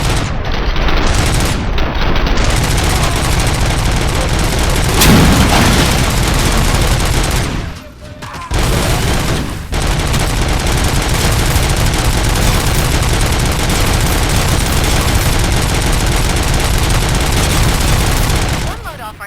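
Sustained full-auto fire from a Beretta Auto Mag in the Robocop Rogue City video game, a dense, loud roar of rapid shots running almost nonstop, with two brief breaks near the middle.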